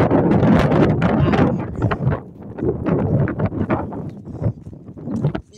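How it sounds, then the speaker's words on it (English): Gusty wind buffets the microphone in loud, rumbling bursts that rise and fall, with no one speaking. "And it's starting to get windy."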